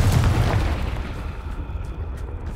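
A Confringo fire spell explosion in Hogwarts Legacy, a deep booming blast that rumbles heavily at first and then fades into a low, lingering roll.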